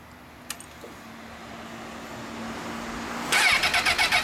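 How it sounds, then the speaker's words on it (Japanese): A 2004 Honda CBR1000RR Fireblade fitted with a Mugen exhaust fires up after a short cranking whine, catching into a loud, throbbing idle with a pulsing burble near the end. "エンジン音聞かせてもらえるかな。"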